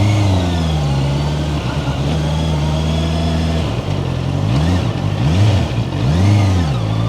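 A heavy 210 cc motorcycle ridden on a road in Australia holds a loud, close steady engine drone, then revs rise and fall several times through the gears as it accelerates, with no speech.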